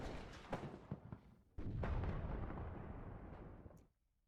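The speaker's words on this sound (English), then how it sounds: "Blue artillery is firing" Artillery fires and lands in a WARNO real-time strategy match, with several sharp bursts in the first second followed by a sudden loud blast. Dense rumbling then fills the scene for about two seconds before it fades out.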